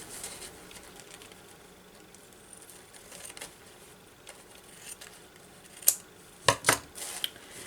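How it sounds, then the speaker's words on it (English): Quiet rustling gives way to a few crisp snips and crunches of scissors cutting a paper napkin, several sharp cuts bunched near the end, with no talking. "use scissors to do this"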